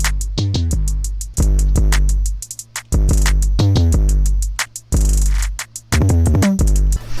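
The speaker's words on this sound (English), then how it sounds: "Then I did the 808, added a beat crusher and camel crusher to it." A loud, distorted 808 bass run through bitcrusher and Camel Crusher saturation booms in long sliding notes with a rhythmic drum pattern over it, each note cutting off sharply before the next hit.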